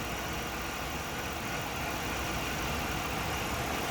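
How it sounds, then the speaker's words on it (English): A 1998 Chevrolet Monte Carlo Z34 engine idling, a steady even mid-pitched hum recorded close up with no voices and no revving. "Great sounding engine."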